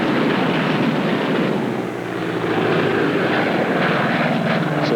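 Allied fighter bomber aircraft of the D-Day campaign drone loudly and steadily overhead, a dense continuous engine roar that barely dips partway through, with no talking.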